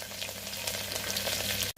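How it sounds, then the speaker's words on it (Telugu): A tempering of mustard seeds, cumin, green chillies and curry leaves sizzles in hot oil inside a cooker, giving a steady, close, crackling fry with no voices. "తాలింపు అంతా మంచిగా ఫ్రై అయిపోయింది"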